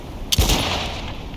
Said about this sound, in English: Favorite weapon so far in the game is this anti-material rifle.